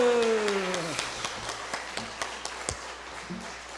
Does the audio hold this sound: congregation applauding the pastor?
yes